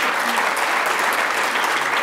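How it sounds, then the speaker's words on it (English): Steady audience applause after a haka dance at a pōwhiri welcome ceremony, a dense even wash of many hands clapping close by, filling the whole moment without a break. "You can clap."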